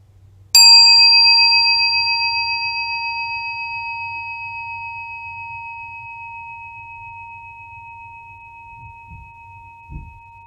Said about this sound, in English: So listen to the bell